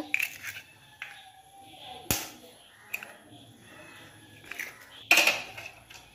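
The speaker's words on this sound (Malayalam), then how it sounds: "ഒരു പാത്രം എടുത്തതിന് ശേഷം രണ്ട് മുട്ട പൊട്ടിച്ചൊഴിക്കുക" Two eggs are cracked into a bowl in a home kitchen, heard as a few sharp, close taps and clicks separated by quiet pauses, with a faint background hum.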